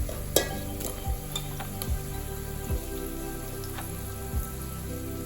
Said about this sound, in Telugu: నేను ఆలు వేస్తున్నాను అనమాట. ఇవన్నీ బాగా ఫ్రై అయిపోయినాయి